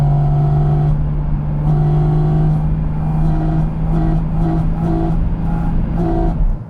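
Porsche Cayman GT4 RS engine under light throttle with its dynamic intake, a steady droning hum broken by repeated short blips of rising revs, close and loud, alone.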